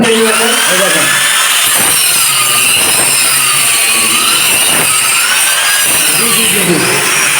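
A handheld grinder fitted with a wall cutter blade saws into a wall, giving a loud, continuous high-pitched whine that dips and recovers as the blade bites. It runs close and steady throughout.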